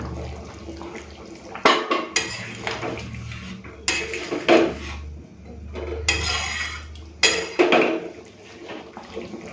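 Ladle stirring meat and potato curry in a pot with a little hot water added, giving several loud clattering scrapes against the metal in separate bursts, with quieter rustling between them.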